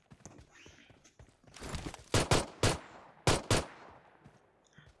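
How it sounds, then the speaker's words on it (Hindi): Gunfire in the battle royale video game PUBG, with several sharp, loud shots in quick pairs and short bursts and faint noise between them. "तो मेरे को और गन साउंड आ रहे थे इस तरफ से"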